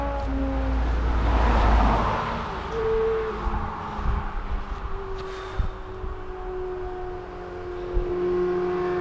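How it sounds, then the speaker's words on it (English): Road traffic passes beside a walker on the Hadrian's Wall path near Halton Shields, a vehicle swelling loudly close by and then fading, followed by fainter engine hum and distant traffic noise with scattered small knocks. "Just got listening to traffic all day."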